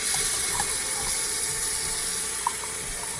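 A glass of water poured into a cooking pot of garlic, ginger, chili and tomato paste for Burmese khawsa, a steady close splashing pour lasting a few seconds, with no talking.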